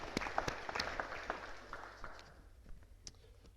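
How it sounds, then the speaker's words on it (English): A small meeting audience of residents claps briefly and softly, and the scattered applause quickly thins out. "Let's give them applause anyway"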